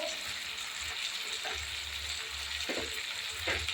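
Spices fry in a pan for chicken kosha, a dense steady sizzle with soft stirring scrapes and brief crackling bursts, close and moderately quiet with no voices.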